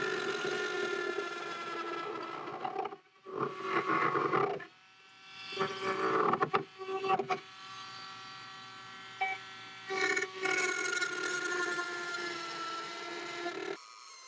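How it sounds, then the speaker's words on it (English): A power drill boring holes in a plastic fishing kayak during budget rigging work, buzzing steadily at close range and broken by a few short pauses and changes in pitch, with no talk. "So I already marked out my holes right now that I need to be drilling."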